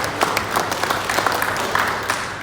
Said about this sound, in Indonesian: Tepuk tangan buat seluruh